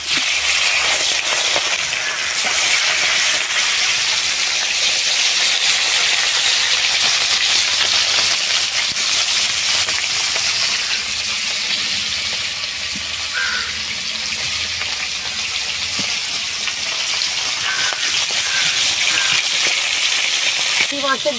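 Pieces of snakehead fish dropped into hot oil in a wok give a loud, continuous hiss and sizzle that holds steady and close for the whole stretch.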